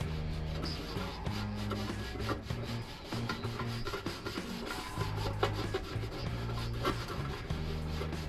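Greasy front-end part from a 1981 Monte Carlo scrubbed by hand with lacquer thinner, giving continuous close rasping and rubbing strokes over a steady low mechanical hum.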